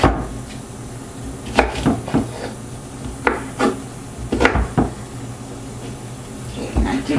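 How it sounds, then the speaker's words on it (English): Knife doing a rough chop through vegetables on a cutting board, a few sharp irregular knocks spaced across the clip over low kitchen background noise. "I'm just doing a rough chop, just to try to get it down to where it'll be easier for me to do in a rocking motion"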